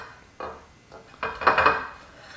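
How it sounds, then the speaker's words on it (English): A knife slices through a bacon, egg and cheese breakfast sandwich, giving a few crunchy, scraping strokes that build into a louder sawing cut near the end. "Go ahead and give this a cross section cut."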